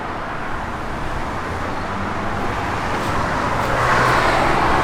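A 1973 Dodge Challenger Rallye with a factory 340 H-code V8 out on the road, giving a steady, even rumble of engine and road noise that swells slightly toward the end, with no talking.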